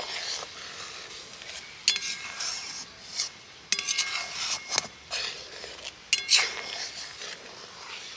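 A utensil repeatedly stirs and scrapes boiling milk in a karahi, producing close, intermittent rubbing and clinking strokes against the metal over a faint bubbling hiss.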